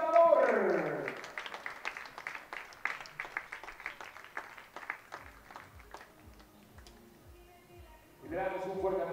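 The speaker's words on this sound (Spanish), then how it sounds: "Y le damos un fuerte aplauso también" Audience applause for the winner of a Monterrey 2016 tennis match, a crowd clapping steadily then thinning out, with an announcer's voice over a loudspeaker before and after.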